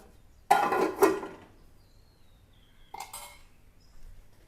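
A lid is set down on a cooking pot of coconut-milk gravy for a seer fish dish, making a clattering metallic clink up close, then a short second knock a couple of seconds later against a quiet background.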